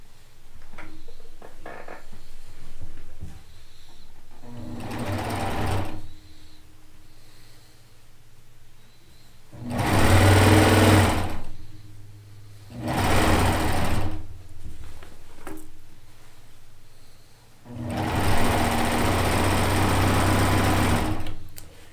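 A sewing machine stitching 5-inch quilt blocks together, running in several bursts of a few seconds each with quiet pauses between, close and whirring steadily while it runs.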